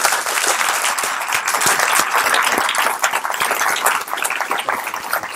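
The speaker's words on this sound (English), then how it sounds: "put your hands together for Pete Lapp." Sustained, loud applause from an audience, dense clapping filling the whole stretch with a brief dip near the end.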